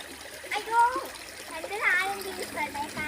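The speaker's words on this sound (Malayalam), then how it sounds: "അവിടെ ഇത്തിരി നല്ലപോലെ വെള്ളം ഒഴുകുന്നുണ്ട് കണ്ടോ" A small forest stream running strongly, with splashing, gurgling water close by while children's voices talk over it.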